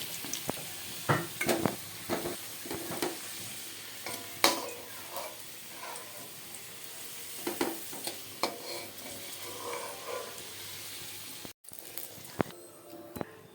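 Potatoes fry in a pan without added oil while a spatula stirs and scrapes them and lifts them out, giving a soft steady sizzle broken by irregular clinks and scrapes, close and fairly quiet.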